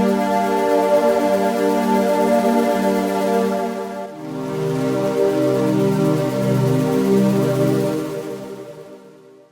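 A lush synthesizer pad plays two long sustained chords with a soft reverb wash, the second swelling in after a brief dip and fading out at the end.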